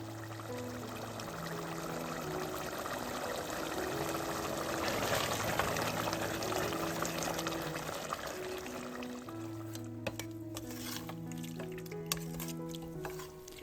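Soft bubbling and hissing of water cooking down over high heat in a pan of beef, steady and fairly quiet, with gentle music playing underneath.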